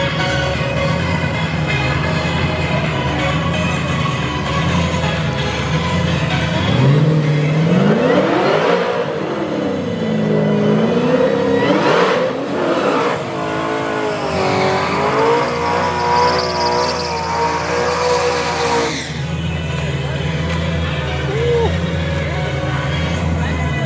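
Twin-turbo drag race car launching at the drag strip, its loud engine revving and rising in pitch through the run before cutting off, with crowd noise and voices underneath.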